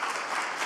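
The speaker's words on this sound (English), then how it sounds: "I hope that you heard the applause, Edi." Applause at a conference session on shared parenting, a brief burst of dense crowd clapping, steady and moderately loud.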